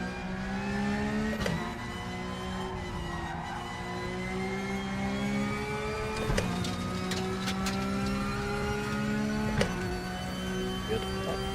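A car engine in the racing video game RaceRoom holding a steady high whine, pitch dropping and climbing again with gear shifts several times, even and unbroken throughout.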